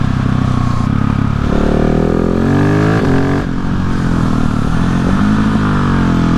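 A 2020 Husqvarna 701 motorcycle is ridden hard, its single-cylinder engine loud and close, revving up and down through rising and falling pitch sweeps with gear changes and no pauses.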